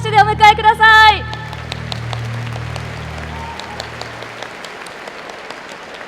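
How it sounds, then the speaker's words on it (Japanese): An audience at a graduation ceremony breaks into loud, sustained clapping to welcome a guest speaker. A voice is heard briefly at the start before the applause takes over and then gradually thins toward the end. "どうぞ皆様盛大な拍手でお迎えください。"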